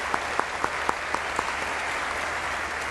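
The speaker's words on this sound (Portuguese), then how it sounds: "Um aplauso." A church congregation applauds in a broad, steady wash of clapping, with several sharper individual claps standing out near the start and a voice barely present underneath.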